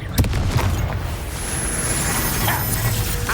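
Confringo spell explosions and combat effects in Hogwarts Legacy, a dense continuous rumble with a few sharper bursts near the start and around the middle, loud and steady throughout.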